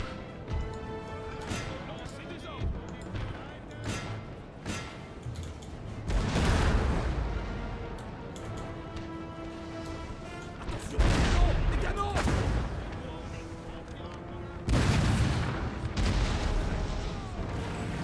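Musket volleys crack out on a Napoleon: Total War battlefield with canister fire, several loud bursts rolling through the scene amid creaking and background commotion while a voice talks over it.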